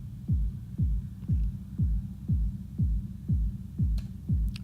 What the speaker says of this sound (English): It's a big thump.